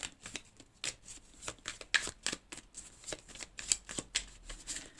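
Tarot-style cards are shuffled for a card reading, a quiet series of rapid papery riffles and soft slaps repeating close to the microphone with no talk.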